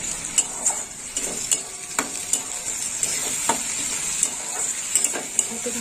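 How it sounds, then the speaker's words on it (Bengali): Prawns and vegetables frying in a pan for a Bengali dish, with a steady sizzle and repeated clinks of a spatula stirring throughout, close and alone without talk. "একটু ভাজা হোক।"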